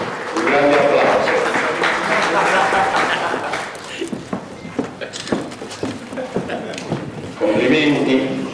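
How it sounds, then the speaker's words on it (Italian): Applause at an Olympic athletes' celebration for maestro Gino Mottola, dense clapping, fading into scattered claps under a voice, then rising again. "a cui voglio un grande applauso"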